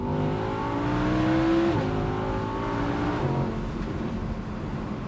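A 2016 Audi R8 V10 with no particulate filter revving loudly and up close, its engine note climbing through rising tones, dropping sharply at a gear change, then climbing again under steady, powerful exhaust roar.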